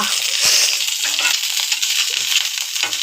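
Cut radish frying in a pan with a loud, close crackling hiss that runs continuously, broken by a few soft scraping stirs.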